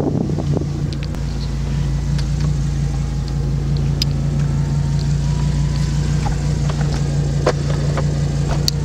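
An Audi R8 sports car driving along, its steady engine drone and road rumble continuous and close throughout, with wind buffeting over it.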